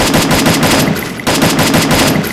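Rapid automatic gunfire in a shooting video game, loud and close, with fast rhythmic bursts continuing almost without pause and a brief dip midway before the firing resumes.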